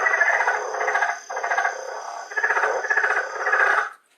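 Rapid, chuckling leopard frog calls in several long rattling bursts, loud and close, with a steady high insect-like tone behind.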